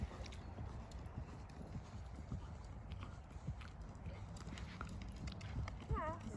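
A horse trotting in a riding lesson, steady rhythmic clip-clop of hooves close by throughout, with a faint snort and background noise.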